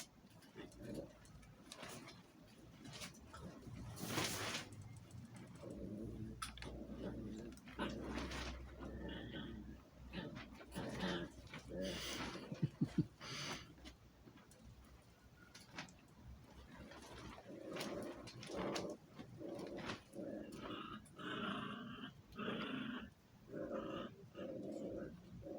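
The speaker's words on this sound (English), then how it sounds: "And yes, the growling is still going on in the background." A dog growls faintly in the background of a quiet indoor room, a low rumble that rises and falls in uneven bursts throughout.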